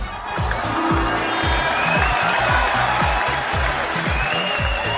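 Studio audience on a Chinese job-seeking TV show applauding to welcome a job seeker, with sustained clapping over a rhythmic thumping music beat, loud and continuous throughout.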